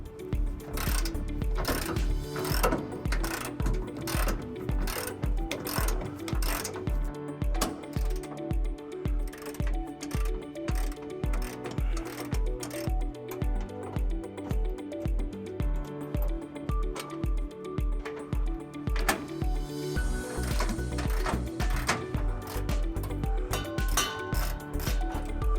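Ratchet wrench with a 21mm socket working bumper bolts loose on a 2018 Chevrolet Colorado during a trailer hitch install: rapid, continuous metallic clicking in steady bursts, close and clear, with brief pauses between strokes.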